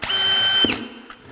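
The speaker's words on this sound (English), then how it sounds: "take a small drill, something smaller than the hole" Small power drill bit whines through a cabinet face in one short close burst, the motor pitch dropping as it breaks through and spins down.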